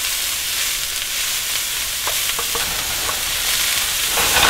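Chopped onions sizzle steadily in hot oil in a pan for a homemade chicken and rice bone broth soup, a dense, loud frying hiss throughout with a few soft spoon scrapes and stirring clicks, no talking.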